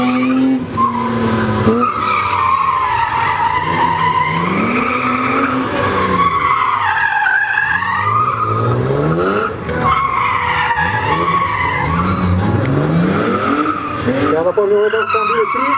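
Tires squeal and skid repeatedly as a roughly 350-horsepower car is spun and whipped around a tight speed maneuvering competition course, sliding tones rising and falling loudly with engine revving and a commentator talking over it.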